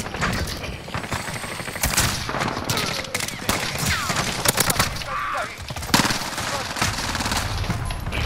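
Rapid bursts of gunfire from the video game Call of Duty: Modern Warfare, sharp repeated shots and fusillades crowding the whole stretch, loud and close with a few heavier blasts standing out.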